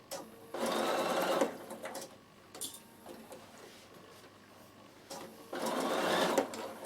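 A Bernina sewing machine back stitches stiff cap fabric in two close bursts of fast, even needle chatter separated by a quieter pause, with no voice over it.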